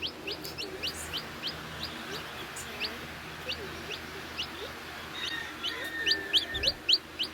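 Baby chickens being rescued on a homestead cheep and cluck softly in high, thin bursts over a steady background hiss, with a few louder chirps near the end.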